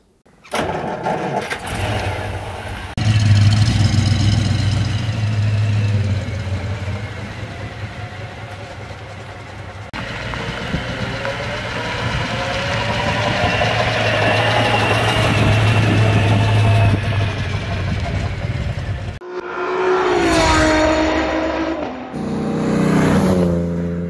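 A 1936 Cord 810 Convertible Phaeton with a 4.5-litre eight-cylinder engine cranks over, fires and settles into a loud, steady idle, then revs up and down with rising and falling pitch near the end.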